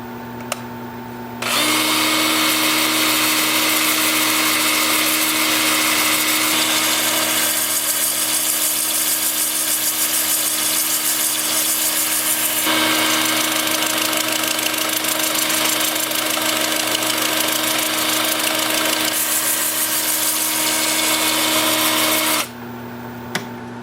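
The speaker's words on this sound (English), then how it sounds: "with the lathe spinning in reverse at about 400 RPM" A wood lathe spins in reverse at about 400 RPM for over twenty seconds with a loud, even whirring hum, starting and stopping abruptly, close by with no voices.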